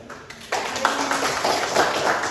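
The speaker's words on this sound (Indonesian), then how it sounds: "Tepuk tangan untuk kita." Classroom of students applauding together, a dense, steady patter of clapping hands that starts abruptly and carries on evenly to the end.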